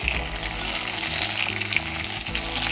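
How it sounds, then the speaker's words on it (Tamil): Brinjal frying in sesame oil for a roasted brinjal gravy, giving a dense, continuous sizzle and crackle, close and loud, without speech. "நல்லெண்ணெயில் கத்திரிக்காவை நல்லா வதக்கி"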